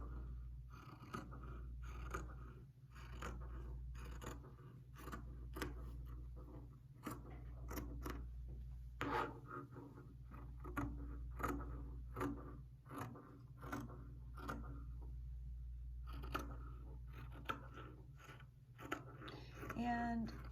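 Fabric for a neck pillow cut with scissors, a long run of quiet, irregular snips and crunches up close in a quiet room, with faint hum underneath.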